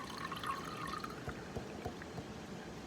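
Liquid trickling steadily out of a device called The Enigma: a soft, continuous watery dribble with occasional drips and small splashes, close and alone without talk.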